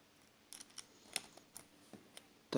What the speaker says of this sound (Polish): Podwadzamy również naszą płytkę klawiatury delikatnie.